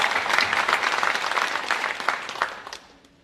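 An audience at an academic awards ceremony claps for a student's achievement, a warm burst of applause that holds steady for a few seconds and then thins and fades out.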